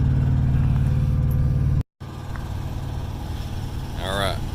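A 2020 Freightliner Cascadia truck with a Detroit engine idles with a steady low diesel rumble, briefly cut off, then running on beneath a voice.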